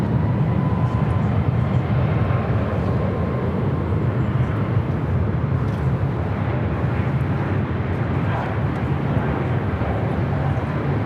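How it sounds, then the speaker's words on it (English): A Delta Boeing 767-300ER arriving at LAX from JFK makes a steady, loud jet rumble and roar that stays fairly constant throughout, with no voices. "our next arrival is that Delta 767-300ER, flight 767, coming up from JFK"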